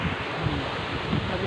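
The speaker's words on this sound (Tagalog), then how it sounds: "sobrang lakas ng hangin" Strong wind during Tropical Depression Fabian roars and buffets steadily, with a broad rushing noise and no clear pauses.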